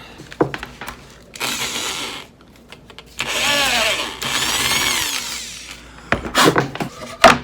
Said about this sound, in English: I actually need to drill out the hole better